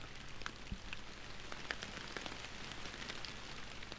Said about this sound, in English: Still absolutely hammering it down with the rain.